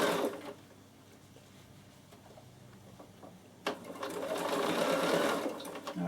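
A Bernina sewing machine fitted with a ruffler foot stitches lace in a steady mechanical whir, running briefly and softly at first, then louder and continuous after a short pause.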